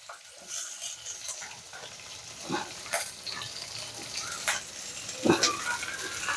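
Onions sizzle and fry in a pan with cumin seeds, green chillies and curry leaves for a flavoured rice dish, a steady crackling hiss broken by a few louder spatters and stirring scrapes, with no talking.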